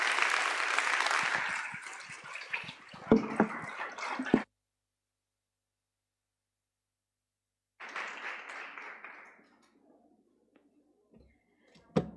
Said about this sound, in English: can I just have a round of applause for the entire J-PAL MENA team?